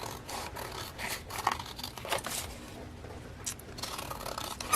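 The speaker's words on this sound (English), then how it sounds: "I could use my cutter, or I could just use a pair of scissors" A pair of scissors snips and scrapes through card coated with pink gesso in a few quick, soft cuts, close up and quiet, with no voices.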